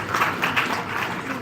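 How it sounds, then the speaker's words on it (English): Applause from a conference audience, a steady wash of many hands clapping at moderate distance, filling the space evenly with no voices on top. "Big round of applause for us"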